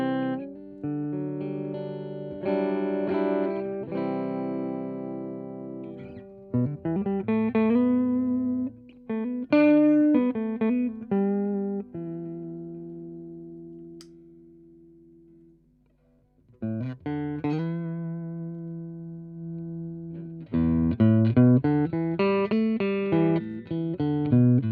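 Electric guitar played through a tube amp switched to 1 watt mode, clean sustained chords and picked note runs ringing out with harmonic overtones, one passage decaying into near silence before the playing resumes.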